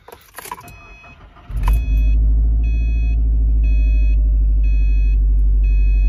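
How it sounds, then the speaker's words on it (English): A Subaru engine cranks and catches after a second and a half, then settles into a loud, steady idle. Thin, high belt-squeal tones repeat in regular pulses over the rumble. "A belt squeal on the Subaru. It's squealing at startup."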